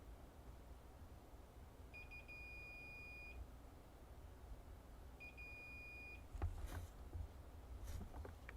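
Two faint short electronic test beeps from a recapped Sega 32X console, each a thin steady tone of about a second, separated by a pause over a low hum, followed by a few soft handling knocks.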